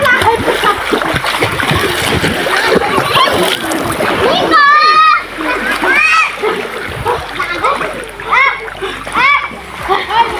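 Water splashes loudly in a very cold spring at San Juan, Culasi, Antique, with repeated churning sloshes while children's voices shout and chatter over it.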